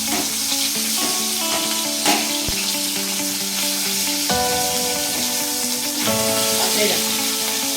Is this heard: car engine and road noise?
no